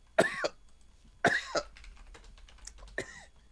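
A man coughs in a few sharp, raspy bursts, three separate fits spaced over a few seconds, close and fairly loud against a quiet room.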